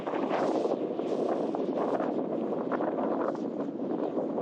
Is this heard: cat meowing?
no